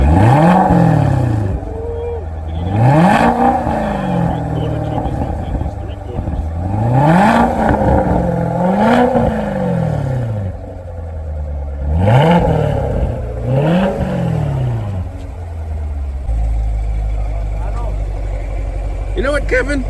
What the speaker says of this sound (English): Popping the hood. Rev it a little.